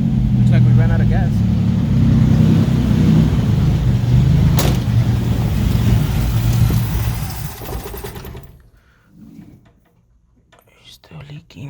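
A 1983 Buick Regal engine, first started in five years, revs loudly and steadily with whispered talk over it, then the engine cuts out as it runs out of gas, leaving near silence.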